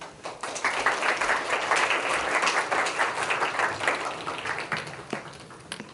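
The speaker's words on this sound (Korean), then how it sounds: "다시 나오실 때 우리 은혜를 사모하는 마음으로 박수하시겠습니다." Congregation at a special dawn revival service in a Korean church breaks into sustained, dense applause, loud and steady before tapering slightly at the end, with no one speaking over it.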